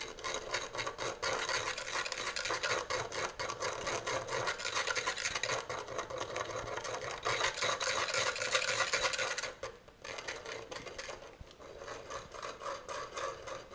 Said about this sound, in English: You can hear that glass bead media. Kind of sounds like it's grinding in there on the Pyrex.